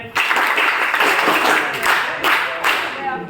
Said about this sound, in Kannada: ಎಲ್ಲ ಚಪ್ಪಾಳೆ ಹೊಡೆಯಿರಿ.